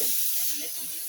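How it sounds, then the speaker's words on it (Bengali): Leafy greens hitting a hot pan of fried onions give a loud, sharp sizzling hiss that settles quickly into a steadier, softer frying hiss. "আর এখন আমি শাকটাকে ঢেলে দেব।"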